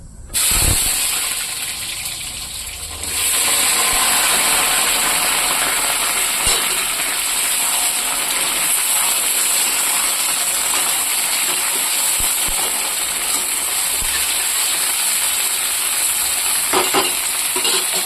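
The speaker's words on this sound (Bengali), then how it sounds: "দেখুন বন্ধুরা, এখানে ঝিঙ্গাটা ভাজা হচ্ছে।" Ridge gourd frying in hot oil in a kadai with mustard, ginger and green chillies nearby, giving a steady, loud sizzle and hiss that runs unbroken for the whole stretch, with a few faint clicks and stirs.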